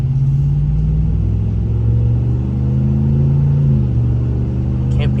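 A Ram 1500 Laramie Sport pickup with a Hemi V8 idles and rumbles nearby, a deep steady engine drone that swells slightly in the middle.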